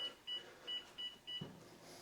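A kitchen timer being set in a home kitchen gives four short, evenly spaced electronic beeps, faint and close, followed by a soft low thump against quiet room noise.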